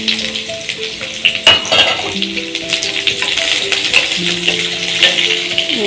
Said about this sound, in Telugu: ఇప్పుడు ఏం చేయాలంటే మనం ఉల్లిపాయలన్నీ సన్నగా తరిగిన ఉల్లిపాయలు కూడా వేసేసుకోవాలి